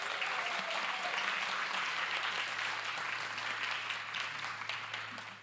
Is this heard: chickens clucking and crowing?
no